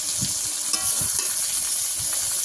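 Tomato, ginger paste and salt sizzle in a hot pan while being stirred for ghugni, a steady close hiss with faint scraping of the spoon and no talking.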